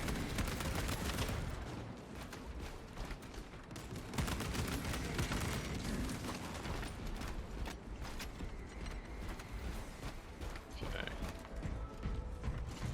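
Auto bolt rifle, accuracy variant, fired in Space Marine 2: dense, loud rapid gunfire bursts with mechanical clatter running nearly nonstop, briefly easing before resuming.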